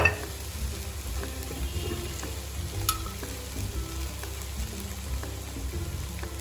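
Radish fry sizzles steadily in a hot pan, a constant crackling hiss with faint stirring scrapes and light clicks, close and unbroken, with no voices.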